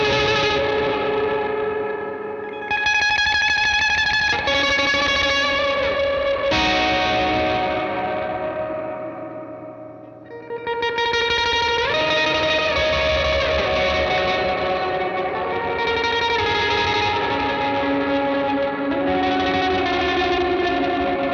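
Gamechanger Audio pedal producing lo-fi, driven delays that break apart against a spring reverb tank, sustained distorted chordal tones with echoing repeats and a ghostly wash that dips briefly before swelling back, no talking.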